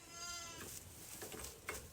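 A Katahdin hair sheep lamb on a Western New York farm bleats once, faintly and close by, in a short wavering call followed by quiet background noise.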